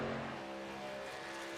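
Race trucks' engines hold a steady, droning high-rev pitch in an iRacing super speedway truck series race, a continuous sustained tone with no talk over it.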